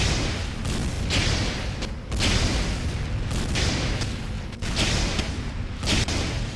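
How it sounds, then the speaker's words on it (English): A rocket launcher in the video game PreFortress 2 fires repeatedly, heavy booming blasts about once a second over a dense roar of game noise, loud and close with no talk. "for his ult fire, instead of having air blast, he has a rocket launcher."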